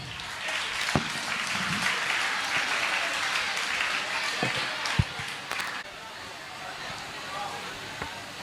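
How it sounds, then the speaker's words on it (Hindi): Sustained applause from a school audience at a Teacher's Day cultural event, filling the whole stretch at a steady level with a few sharper claps and thumps standing out, then easing slightly near the end. "साथ एक और जोरदार तालियां प्लीज।"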